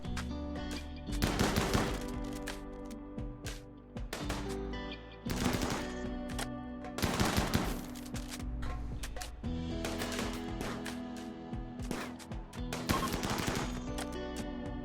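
Gunfire in the RimWorld video game, with repeated rapid bursts of automatic shots at uneven intervals, loud and close, across a steady background.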